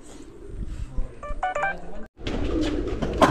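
Pigeons cooing softly amid background noise at a pigeon racing tournament loft, with a few electronic beeps, then a louder burst of rustling and bird sounds nearby.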